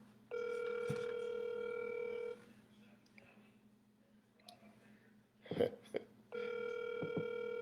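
Outgoing phone call: two long electronic ring tones with a pause between, soft clicks and faint voices in the gap, then the ringing starts again.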